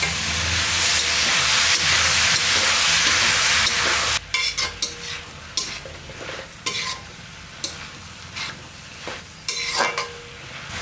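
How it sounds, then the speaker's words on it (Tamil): Radish and brinjal sautéing in a pan for a dry fish curry: a loud, steady sizzle for several seconds, then sharper intermittent scrapes and clinks of a utensil stirring the vegetables against the pan. "பாருங்கள், காய் எல்லாமே நல்லா வதக்கிட்டோம்."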